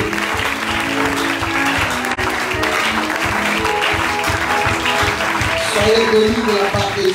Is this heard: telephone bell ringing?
no